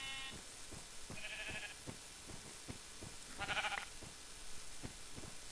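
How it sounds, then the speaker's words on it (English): Black sheep in the Minecraft video game bleat in two short, clear bursts over a busy background of game sounds, the second bleat louder and closer. "Hey, there's some black sheep."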